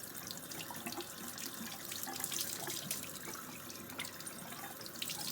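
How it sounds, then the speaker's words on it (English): Warm water pours steadily from a tap into a sink for rinsing, a constant splashing rush heard close and alone, without speech. "I'm just going to run a lot of water through this"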